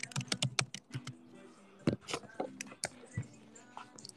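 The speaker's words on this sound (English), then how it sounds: "I'm just about to type it here." Typing on a computer keyboard, with quick, uneven clusters of light clicking keystrokes at close range, broken by short pauses and soft background murmur.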